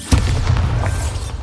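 The Bombarda blasting spell from Hogwarts Legacy goes off as a loud, deep boom with a sharp attack, followed by a rumbling low tail and a few crackles of debris.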